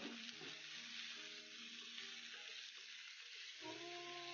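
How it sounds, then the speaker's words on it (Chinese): Cabbage stems sizzle steadily in hot oil that is already fragrant with garlic and chili, a continuous close hiss with faint stirring scrapes running throughout. "炒香后放菜帮炒至断生"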